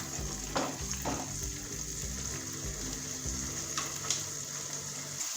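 Vegetable kofta curry masala with tomato puree frying in a pan on a low flame, a soft continuous sizzle with a few faint stirring scrapes, fairly quiet and with no voices.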